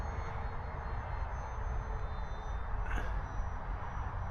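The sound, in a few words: FMS Cessna 182 RC model airplane engine in flight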